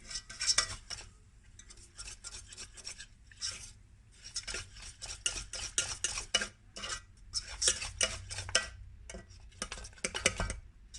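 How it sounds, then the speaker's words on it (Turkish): A spoon stirs and scrapes a cream mixture in a pot while it cools for a tiramisu, in quick rhythmic bursts of metallic scraping with brief pauses, close and clear with no talk. "Ben bunu güzelce karıştıra karıştıra soğutayım"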